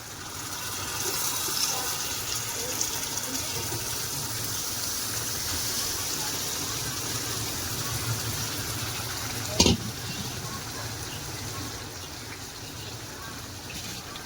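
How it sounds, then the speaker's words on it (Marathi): Mutton lungs go into a pan of masala and oil, giving a steady sizzle and frying hiss throughout, with a sharp clatter near the end. "आता आपण त्याच्यामध्ये फोपसा टाकून घेऊया."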